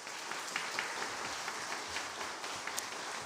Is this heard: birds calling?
no